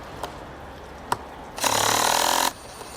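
A Hikoki hydraulic impact driver drives a screw into wood in a single loud buzzing burst of about a second, preceded by two sharp clicks, heard close up with no talk.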